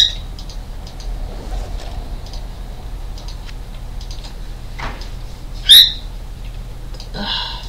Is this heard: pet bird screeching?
yes